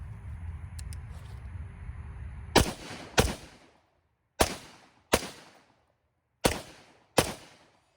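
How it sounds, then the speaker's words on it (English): AR rifle fired at an outdoor shooting range, six sharp loud shots with ringing decays, the first two close together and the rest in spaced pairs, after a stretch of low background rumble. "He is gonna get to shoot my AR today."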